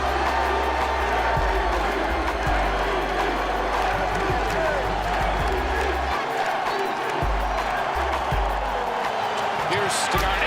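A roaring basketball arena crowd cheers and swells at a Boston Celtics game, a dense, loud wall of voices and applause that stays continuous throughout, with an announcer-like voice talking over it.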